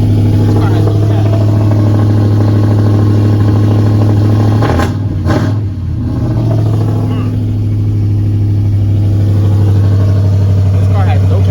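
A car with no catalytic converters running loud and close, with a strong steady engine drone that surges in a brief rev midway; a person talks over it.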